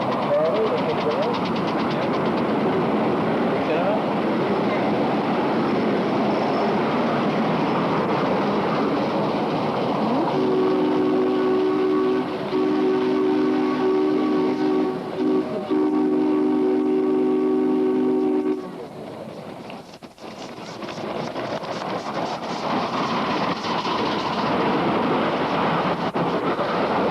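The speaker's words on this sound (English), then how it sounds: "Followed by Roy Hargrove with his diesel electric" A diesel-electric locomotive runs past with a loud, steady engine rumble and rolling wheel noise, a sustained horn blast sounding partway through before the din dips and resumes.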